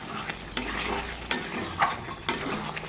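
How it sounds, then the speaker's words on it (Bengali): Mutton for a Bengali mutton kosha is stirred in a pan, with about four distinct spatula scrapes spaced out over a soft, steady sizzle close by. "উঠিয়ে দিলাম মাংসটা, নাড়িয়ে চাড়িয়ে দেবো।"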